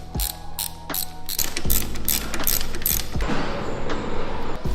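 A 10mm spanner tightening the handlebar clamp bolts on a FunBikes Ranger 1000W electric bike, giving a series of close, rapid ratcheting clicks in short bursts, with no talking.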